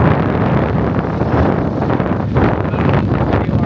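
Boat motor running at sea, a loud steady broadband drone heavily mixed with wind buffeting on the microphone, continuous throughout with no voices.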